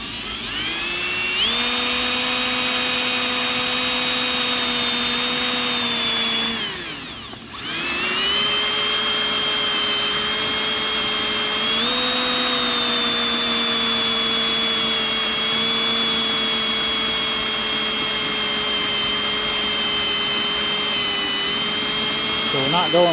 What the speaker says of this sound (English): Drill with a 9/16 drill bit one-handed while you're filming